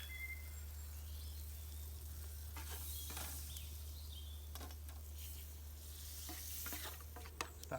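Tesco's finest bacon frying on a camp grill in woodland, a steady quiet sizzle with soft crackles and a few scraping touches, low outdoor hum beneath and faint birds or insects around.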